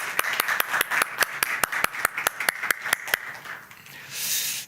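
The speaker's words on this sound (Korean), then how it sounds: "하나님께 우리 영광의 박수 올립시다" Church congregation applauding during a Wednesday worship service: a steady run of about fifteen evenly spaced, sharp claps that fades out, followed by a brief soft hiss.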